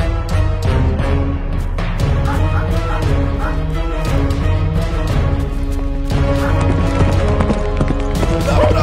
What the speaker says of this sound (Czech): Mají koně! Odkud vzali koně?